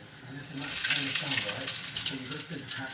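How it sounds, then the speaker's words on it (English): Loud, dense crackling and bubbling of breaded sweet corn cobs deep frying in hot oil, continuous throughout with a faint murmur of voices underneath. "And it is deep frying."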